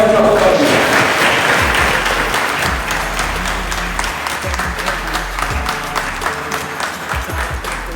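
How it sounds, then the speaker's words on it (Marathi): Loud applause from an audience fills the space, dense and continuous, tapering slightly with a voice or music mixed faintly underneath. "यांना एकदम मोठ्यानं टाळ्या पाहिजे."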